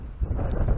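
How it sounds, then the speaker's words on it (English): Strong wind gusting across a pond in Labrador Hollow Unique Area, a dense, rumbling roar buffeting the microphone for a brief moment, with no voices. "it is windy as hell"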